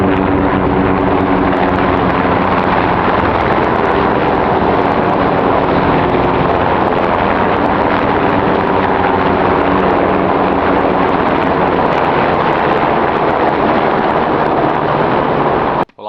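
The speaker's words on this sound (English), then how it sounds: "got military helicopters about to be approaching me overhead" Military helicopters pass overhead with a loud, steady, broadband rotor and engine roar that stays at full strength throughout, with no voices.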